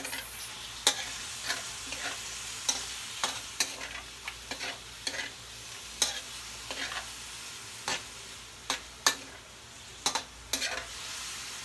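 Pork humba with soy sauce frying in a pan is stirred repeatedly, sharp scraping clacks of the utensil landing every second or so over a constant soft sizzle.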